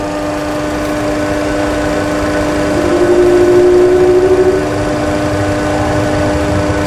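Boeing 737 jet engines spooling up for takeoff on the runway, a steady droning hum whose tone rises and swells in the middle before settling, heard from inside without talk.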